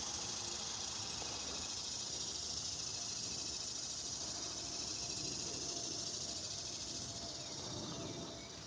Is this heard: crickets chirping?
yes